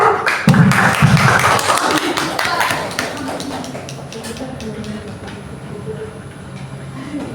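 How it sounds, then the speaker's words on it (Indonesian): Classmates clap for a student in a classroom, a brisk round of applause that fades after about three seconds into quieter room noise with some talk. "Kita tepuk tangan buat Tessa."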